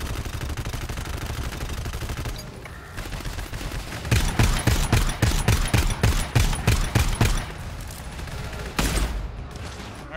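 Rapid automatic gunfire in the video game GTFO comes in dense bursts over several seconds after a quieter stretch, loud and close, with players talking over parts of it.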